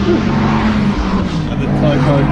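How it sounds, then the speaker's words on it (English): Several race cars roar past one after another during an endurance race, a loud continuous engine drone with shifting pitch and a voice talking underneath. "Just gotta wait for these noisy cars to go past"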